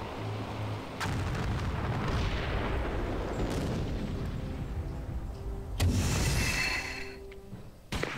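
Anti-aircraft gunfire in the strategy game Empires: Dawn of the Modern World, a dense, continuous rumble of booming artillery with a sharper burst near the end, loud and close.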